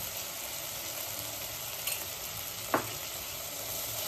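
Vegetables and spices for tava pulao stir-fry together in a steady, moderate sizzle, with a single sharp clink of a utensil near the end.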